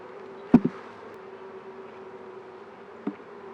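Honey bees buzz steadily around a moved beehive during frame inspection, a low continuous hum with a couple of sharp knocks on the hive woodwork.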